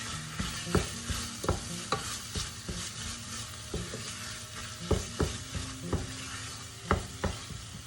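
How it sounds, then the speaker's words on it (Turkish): A spoon stirs a green lentil dish with grated garlic in a pot, scraping and knocking against the metal over a steady sizzle. The clinks are close and irregular, with no talking. "Şöyle bir karıştırıyorum"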